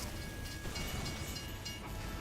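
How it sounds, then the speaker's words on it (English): A train rumbles past in Team Fortress 2, a steady dense roar with rail clatter filling the whole stretch, loud and continuous without pause. "Wait for the train"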